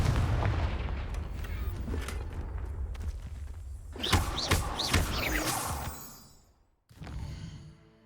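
A Confringo blasting spell explodes in the Hogwarts Legacy video game, giving heavy booming blasts with crackling debris, then a short silence and a final thud.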